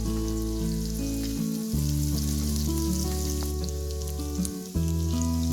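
Spring onion frying in a pan for chicken 65, a steady close sizzle running throughout with sustained tonal music over it.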